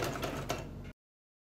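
A sewing machine stitches fabric piping in a short continuous whirring run with faint rhythmic clatter, close and moderately quiet, then cuts off abruptly into silence.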